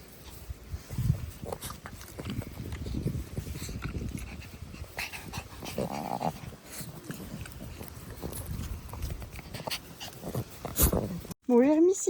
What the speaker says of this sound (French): Quelle douceur cette chienne.